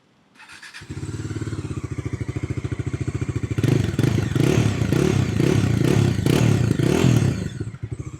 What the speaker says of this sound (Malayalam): അപ്പൊ ഇതിന്റെ എക്സോസ്റ്റ് നോട്ട് ഒന്ന് ഞാൻ നിങ്ങൾക്ക് കേൾപ്പിച്ചു തരാം.